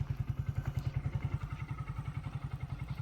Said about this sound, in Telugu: బైక్ అయితే న్యూట్రల్లో పెట్టి స్టార్ట్ చేసి మీకు చూపిస్తాను చూడండి